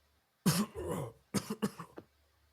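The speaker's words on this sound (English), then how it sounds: "You guys hear coughing behind you." Two bursts of coughing, a single harsh cough followed by a quick cluster of shorter coughs, fairly close and otherwise quiet.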